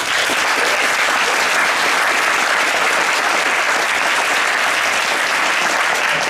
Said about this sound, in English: I would like to invite everybody to give big applause to all three teams for their good performance.